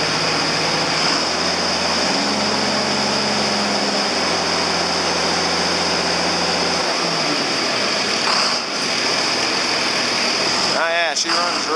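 An old tractor engine, a John Deere 4320, runs steadily up close with a low rumbling drone and a constant high whine, the pitch shifting partway through before settling.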